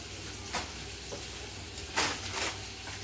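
Sausages frying in a pan over slightly lowered heat, a constant close sizzle broken by a few sharp spits and stirring scrapes, with no voices.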